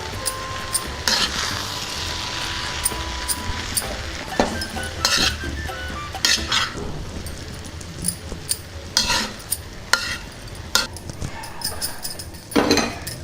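Precooked rice is stirred with vegetables in a pan for a vegetable fried rice, with a soft sizzle underneath and repeated scraping and clinking of a spoon against the pan, some strikes sharper and louder than others.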